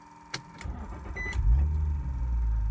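An Infiniti G35 performance car cranks with a few clicks and a short whir, then its engine catches and settles into a low, steady idle rumble, close and without talk.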